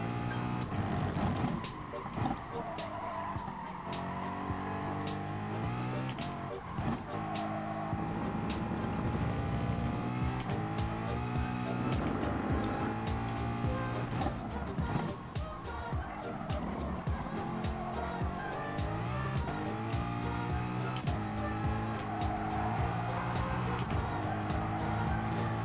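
A Ford Mustang race car in Gran Turismo Sport roars through repeated shifts and throttle lifts, its engine note rising and falling over nearly half a minute, with tire squeal and a voice speaking faintly in places.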